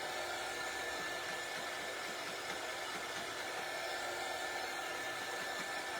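A hair dryer runs steadily to dry a craft piece, giving a continuous close whooshing roar with a faint whine, steady in level throughout with no talking.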